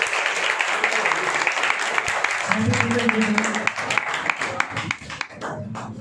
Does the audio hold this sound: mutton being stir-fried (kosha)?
no